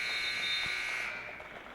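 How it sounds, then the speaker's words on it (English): A basketball scoreboard buzzer sounds the end of the first half in a women's college game, a loud steady electronic drone that cuts off after about a second, leaving faint gym ambience. "Shirley, jumper, won't go at the buzzer"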